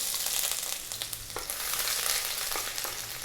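Garlic and ginger hit very hot oil in a pan on maximum heat while chicken fried rice is being made, giving a loud, steady, crackling sizzle that carries on with no break and no talking.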